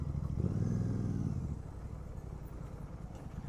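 A garbage truck passes along a road. Its low engine rumble swells close and loud in the first second and a half, then settles into a steadier, fainter drone as it moves on.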